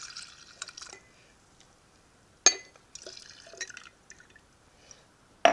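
Homemade pear juice for pear wine pours from a full glass into a bigger jar in several short splashing bursts with gaps of quiet between, close by, with a sharp glass clink near the end.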